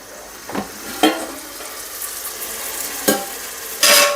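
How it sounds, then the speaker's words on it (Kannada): Sour tomatoes fry in a pan for sambar, with a soft steady sizzle broken by four sharp scrapes and clatters from stirring at uneven intervals. "ಈ ಸಮಯದಲ್ಲಿ ಒಂದು 5 ಸಣ್ಣ ಟೊಮೆಟೊ, ಹುಳಿ ಟೊಮೆಟೊ ಹೆಚ್ಚಿಟ್ಕೊಂಡಿದ್ದೀನಿ, ಅದನ್ನು ಸಹ ಹಾಕಿ ಫ್ರೈ ಮಾಡ್ಕೊತೀನಿ."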